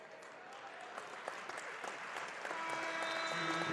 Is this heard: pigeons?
no